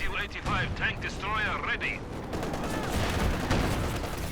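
Heavy 152 mm artillery shells from Company of Heroes 2 land in a dense barrage of booming, rumbling impacts. A commentator talks over the first half while the blasts and crackling battle noise continue loud to the end.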